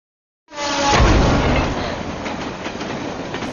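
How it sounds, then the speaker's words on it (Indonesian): A train roars in suddenly after a moment of silence, then rumbles past steadily with rattling, clattering wheels on the rails. "akhirnya Adi pun harus tewas ditabrak kereta api"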